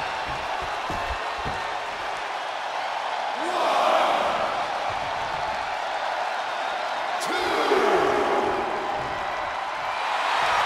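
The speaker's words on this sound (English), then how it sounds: "The sound of this crowd is deafening, and he's asking for more." Wrestling arena crowd in the WWE 2K24 video game roaring steadily throughout, with two louder swells of cheering over a continuous dense wall of noise.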